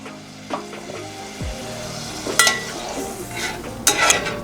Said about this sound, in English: I'm just gonna go ahead and go in with 3/4 of a cup of hot sauce.